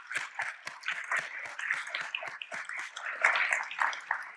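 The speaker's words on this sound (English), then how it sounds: "Now you can applaud." An audience at an awards ceremony claps in a quiet, fairly distant burst of many overlapping hand claps, steady throughout with slight swells.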